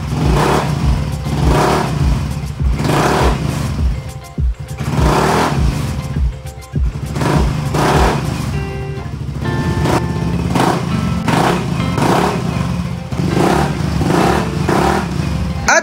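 A Yamaha Mio i 125 scooter runs steadily close by during a brake test after a new brake system was fitted, its engine droning loudly and continuously with repeated pulsing rises and dips in pitch.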